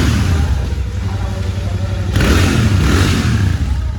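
A Royal Enfield Continental GT650 motorcycle engine runs loud and close, rumbling steadily before surging into a stronger rev partway through, with talk mixed in.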